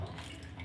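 Water poured over crabs being cleaned, a soft close splashing and trickling stream, faint and brief, with no voices over it.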